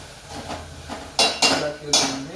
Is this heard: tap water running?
no